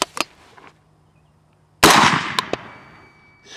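A PSA Sabre AR-15 rifle fires AAC 55 grain ammunition outdoors, giving a few sharp, loud shots, one with a long ringing decay.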